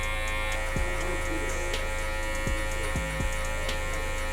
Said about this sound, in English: I'm using mainly just the corners of the clipper and it's leaving everything real soft.